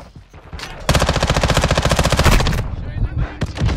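An MPX submachine gun fires in Modern Warfare 2, a loud, rapid automatic burst of evenly spaced shots lasting nearly two seconds, followed by scattered quieter shots.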